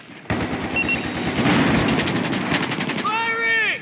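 Gunfire in Battlefield 4 multiplayer rattles in a loud, dense automatic burst that runs for several seconds, then cuts off as whistling game sounds follow.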